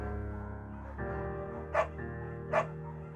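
A beagle in the Firewatch video game barks twice, short evenly spaced woofs over a steady droning game soundtrack.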